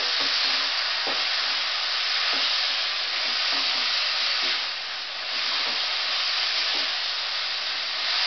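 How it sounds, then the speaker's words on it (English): Prawns sear in a hot pan, giving a steady, close sizzling hiss that stays loud and even throughout, with faint stirring clicks now and then. "You really just want the heat just to touch them, just sear them"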